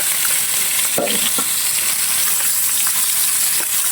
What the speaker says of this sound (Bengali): আমরা দেখাচ্ছি কীরকমভাবে আপনারা মাছ ভাজি করবেন